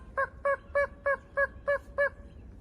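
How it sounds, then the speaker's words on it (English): A wild turkey gobbles seven times in a steady rhythm, each call a short rattling burst spaced about a quarter second apart, heard at a moderate distance on a quiet spring morning. "He's got a good throw to gobble."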